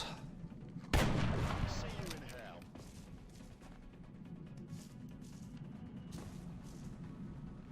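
A single heavy gunshot booms in the XCOM Long War video game, a sharp loud blast followed by a decaying rumble that fades over a couple of seconds under low background game sound.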